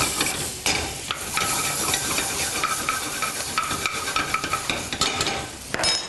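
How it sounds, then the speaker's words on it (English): Sliced garlic sizzles in melted butter in a pan, a steady, close frying hiss with light scraping and stirring throughout and no voices. "Slice yourself some garlic up. Put that into the pan as well."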